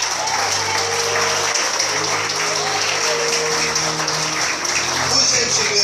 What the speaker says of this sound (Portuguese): Mais forte as palmas, adore e adore.